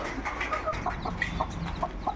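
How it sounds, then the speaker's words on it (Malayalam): Chickens cluck in short, repeated calls over a steady background murmur, several birds close by. "ഞാൻ ഈ സമയം കൊണ്ട് നമ്മുടെ കോഴികളെ കാണിച്ചു തരാം"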